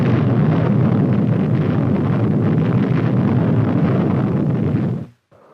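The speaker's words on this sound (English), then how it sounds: "Then came atomic artillery." Atomic artillery fires in a sustained, heavy roaring blast with a deep low rumble that holds steady for about five seconds, then cuts off abruptly into near silence.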